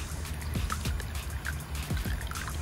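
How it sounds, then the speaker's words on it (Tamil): Water poured into a pot over kodampuli (Malabar tamarind) for a Kerala-style fish curry, a soft close splashing trickle with small bubbling blips. "தண்ணியை ஊற்றியாச்சு"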